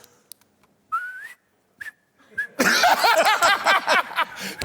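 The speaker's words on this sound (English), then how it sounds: "Hit the whistle." Lip whistling comes in short rising notes and brief chirps with pauses between them, then a quick run of warbling tones. A few faint clicks are heard early on.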